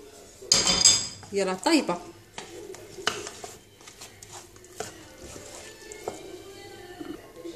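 Cooked potatoes are stirred together with other ingredients in a dish, with clattering utensil-on-bowl scrapes and knocks loudest early, then softer mixing sounds, while someone speaks briefly.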